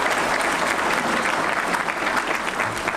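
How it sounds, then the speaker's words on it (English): Banquet audience applauds the caterers after a meal, a dense, steady wash of many hands clapping at once, loud and sustained throughout with no talk over it. "Let's give the caterers a round of applause for a great meal."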